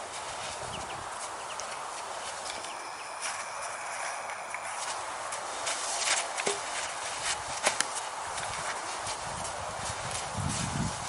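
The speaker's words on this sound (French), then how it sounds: "Et après on a fait au trot, on a passé le petit obstacle." A horse trotting outdoors: a steady run of hoof clip-clops, moderately near, over a constant windy background hiss, with no voices.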